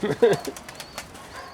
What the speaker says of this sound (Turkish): Yukarıda kuş var onu takip ediyor.